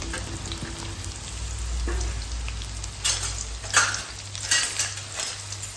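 Chopped onion for a tempering sizzles steadily in hot ghee in a pan, with a spoon scraping and stirring in bursts of clatter over the constant frying hiss, close and fairly loud.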